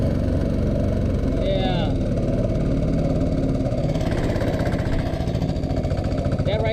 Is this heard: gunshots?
no